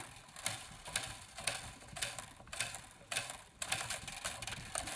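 Bass guitar tuning pegs turned by hand to unwind the strings, giving quiet repeated ratcheting clicks in bursts about every half second, close and alone.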